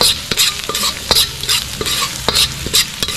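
Garlic sautéing in a pan for honey butter sauce, a steady loud sizzle broken by sharp scraping stirs every fraction of a second, close and without talk.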